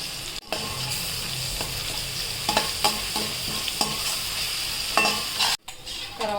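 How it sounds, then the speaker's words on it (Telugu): Green chilli and ginger-garlic paste with spices fry in hot oil with a steady broadband sizzle, punctuated by repeated scraping stirs and a couple of brief drop-outs. "పచ్చిమిర్చి, అల్లం వెల్లుల్లి పేస్ట్ కూడా వేసుకొని మంచిగా వేయించుకోవాలి"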